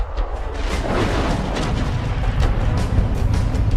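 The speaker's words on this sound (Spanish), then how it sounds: "la zona quedó ensordecida por una serie de 4 grandes explosiones" Deep, rumbling booms from the Krakatoa volcano's eruption roll continuously, a heavy low roar like a massive distant explosion, with no voices.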